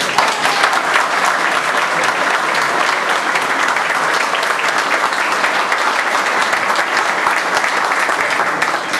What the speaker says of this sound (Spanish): un fuerte, fuerte aplauso